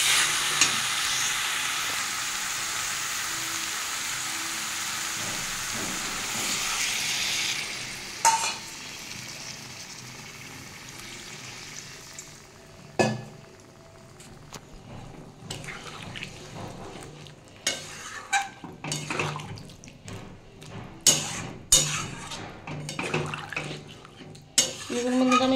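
Green jackfruit curry stir-fried in a pan: steady close sizzling frying noise at first, then scraping and clinking of a spatula against the pan in irregular bursts, with no voices.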